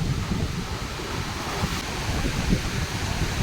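Big sea waves at Mandarmani beach make a steady, broad roar of surf mixed with wind buffeting the microphone, continuous and fairly loud with no clear voices.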